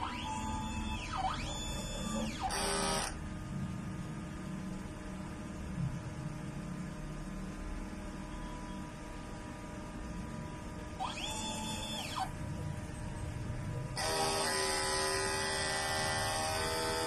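A printer runs a print head cleaning cycle: a steady mechanical hum broken by a few sweeping motor whirs and buzzing carriage movements, ending in a longer, louder buzzing run.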